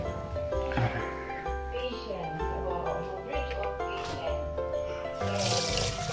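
Kangkong leaves are washed under a running tap, water splashing steadily and close while a person talks over it.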